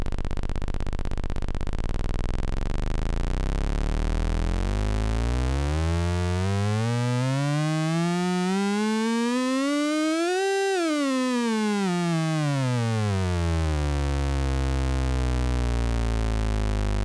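A Eurorack step sequencer's gate outputs run at audio rate through a mixer, producing a loud tone that sweeps steadily upward in pitch with a buzzy harmonic stack, peaks sharply, then glides back down, with no talking.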